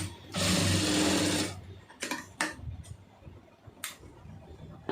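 Sewing machine stitching a round neck, one loud close burst of rapid motor-driven stitching for about a second, followed by scattered handling clicks and thumps as the fabric is adjusted.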